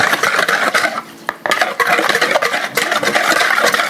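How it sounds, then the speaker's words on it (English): A lime juice and sesame oil marinade for Korean bulgogi is stirred briskly in a bowl, a spoon scraping and clinking against the sides in a steady rhythm, close and fairly loud, with a short pause partway through. "That's it, we just stir it up."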